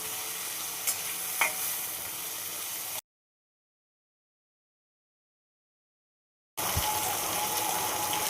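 Mixed vegetables with tomato fry in a pan for a chilli-free vegetable bhaji, giving a soft, continuous sizzle with a few faint clinks, cut by a stretch of total silence before the sizzling resumes.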